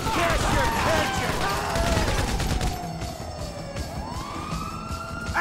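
Ambulance siren in the video game GTA V, a loud wailing tone that sweeps up and down and carries through the clip, mixed with dense game noise and what may be gunfire.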